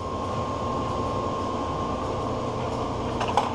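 A large 36x144 metal lathe turning slowly, giving a steady, even mechanical hum with a faint tonal whine that holds throughout, close and alone, ending in a brief light clink.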